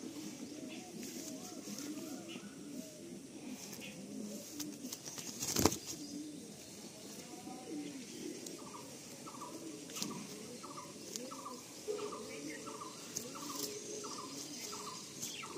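Pigeons coo in a loft at Barasat, a low continuous murmur of many birds with a run of repeated rolling calls near the end and a single sharp knock midway.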